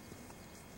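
Horses' hooves clip-clop faintly at a distance amid low background noise, with a soft, steady clatter through the short moment.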